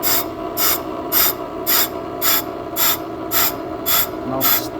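A brake lathe machining a brake drum, with a steady mechanical hum under a regular, evenly spaced series of loud rasping cuts, about two per second, close and without speech.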